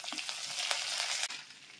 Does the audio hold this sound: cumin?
yes